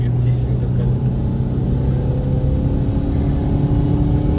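A CNG-powered Fiat Punto accelerating in a drag race after a missed gear, its engine droning in a steady loud rumble throughout as someone talks over it.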